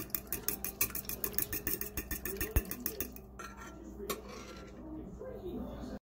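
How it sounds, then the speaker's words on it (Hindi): Eggs for French toast are beaten in a bowl, with quick, regular clicking strokes of a utensil against the bowl for about three seconds before the strokes slow and the sound turns quieter. "मैंने अंडे यहाँ पर डाल लिए हैं और अब इनको जो है वो हल्का सा इनको मैं बीट करूँगी"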